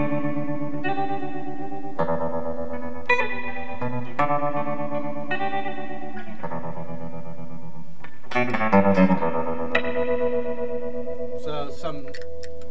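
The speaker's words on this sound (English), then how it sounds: "this is just a standard Boss Tremolo" Electric guitar played through a standard Boss tremolo pedal, sustained chords pulsing in steady, even volume waves, then a brighter strummed passage near the end, loud and alone with no talk.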